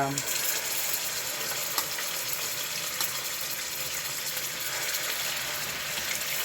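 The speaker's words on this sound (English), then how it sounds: "I'm just going to fry them for 1 or 2 minutes on each side" Tuna fillets fry in hot peanut oil, giving a steady, close, bright sizzle and crackle that continues evenly throughout.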